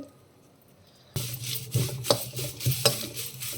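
Curry leaves are stirred and pressed against a pan after the stove is turned off. The pan is quiet for about a second, then close, scratchy scraping and crushing strokes follow, with a few sharper knocks.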